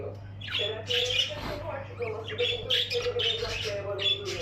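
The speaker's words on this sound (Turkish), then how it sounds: "Burada bir iki tane şof takımının kuş yavruları var." Persistent high squawking and chirping from several young birds, overlapping continuously, with a person talking underneath.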